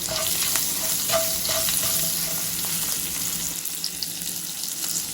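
Green chillies fry in a pan for a Marathi-style okra bhaji, a steady close sizzle with occasional clinks of a spatula stirring, continuous and fairly loud with no talking.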